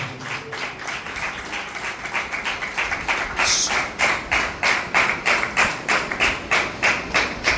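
An audience at a quiz competition prize ceremony claps for the winners, a steady rhythmic applause of many hands that starts loosely and settles into a regular, fairly close beat.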